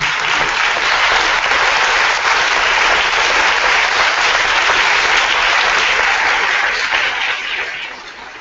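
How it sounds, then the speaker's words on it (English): A graduating class at a ceremony breaks into a thunderous round of applause, a dense, loud, sustained wash of clapping that holds steady for about seven seconds before easing off at the end. "give them a thunderous round of applause"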